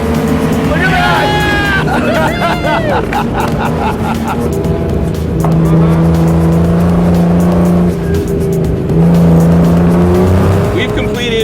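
A race car lapping at the 24 Hours of Lemons endurance race drones with a steady, loud engine tone, climbing and settling as it revs, while excited voices shout over it throughout.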